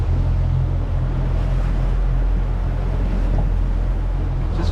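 A fishing boat cruises slowly over a shallow reef, its engine a steady low rumble under continuous wash of water and wind buffeting the microphone, loud and unbroken throughout.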